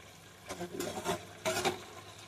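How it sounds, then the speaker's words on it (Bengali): Raw pumpkin frying in a pan, heard as quiet close stirring: two short bursts of scraping and soft sizzle over a faint low background, with no talking. "কুমড়ো ভাজতেছি।"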